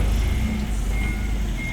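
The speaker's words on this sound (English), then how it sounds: "the truck's moving" Truck reversing beeps at a Home Depot, one or two faint tones over loud, close engine rumble, brief.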